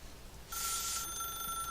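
A telephone in the video game The Stanley Parable starts ringing after a moment of quiet room tone, a single faint, bright electronic trill that holds steadily.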